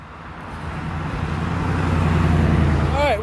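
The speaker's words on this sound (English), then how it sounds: "All right, we're going to take the bus." A city bus in Fort Myers, Florida, rumbles in and idles nearby at a stop, its low engine drone building steadily and holding loud over street and traffic noise, with a brief squeal of brakes or air at the very end.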